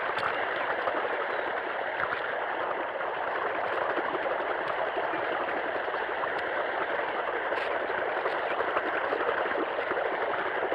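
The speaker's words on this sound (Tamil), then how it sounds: "தோட்டத்துல யாருமே இல்லைங்கிற வாய்க்கால இவ்வளவு தண்ணி போகுது" Water rushes steadily along an irrigation channel beside a farm pump set, a loud, unbroken gurgling flow that fills the whole stretch with no voices over it.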